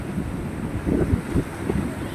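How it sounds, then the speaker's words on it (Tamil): Sea waves and wind at Kanyakumari beach: a continuous low rumble of surf mixed with gusty wind buffeting the microphone, with no distinct individual breakers standing out. "மனதிற்கும் இனிமை பெறக்கூடிய ஒரு கடற்கரை தான் கன்னியாகுமரி கடற்கரை."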